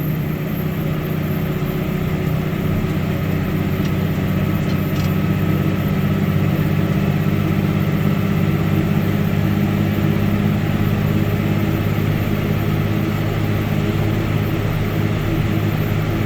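A heavy truck hauling a full load of rock, in winter, labors at full revs, a loud continuous deep engine drone heard close and steady with no talking.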